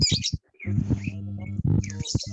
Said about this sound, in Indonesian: itu yang suara burung-burung itu